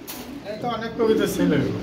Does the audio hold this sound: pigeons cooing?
yes